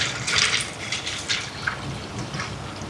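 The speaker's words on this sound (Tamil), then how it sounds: "இனி இதில் தேங்காய் பாலை சேர்ப்போம்." Coconut milk pours into a pot for Sri Lankan dodol, a brief close splashing gush that tapers into softer trickling.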